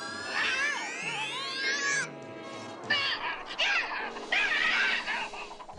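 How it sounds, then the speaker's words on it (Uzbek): A cartoon cat lets out a string of exaggerated, wavering meows and yowls, loud and close, with a rising glide early on and more bursts of cries later over a soft backdrop. "Bezbek, ahmoq mushuk, nega qaraysan?"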